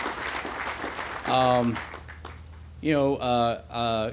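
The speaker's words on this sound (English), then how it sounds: "Let's give him a round of applause." Applause from a crowd at an outdoor town center groundbreaking ceremony, heard as a steady wash of clapping, with loud vocal cheers and shouts breaking through several times over it.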